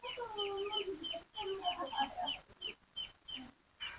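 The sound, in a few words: chicken clucking while children play with it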